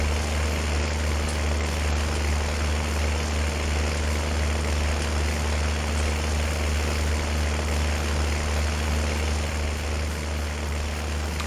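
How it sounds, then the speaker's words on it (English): A loud tractor engine in Farming Simulator 19 drones steadily with a deep, constant rumble and broadband roar, near and unbroken throughout, with no talking. "it's a loud tractor"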